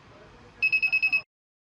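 A home security system's alarm buzzer, armed with an ultrasonic motion sensor, sounds six quick, evenly spaced high-pitched beeps, loud and close, after a faint low background hum.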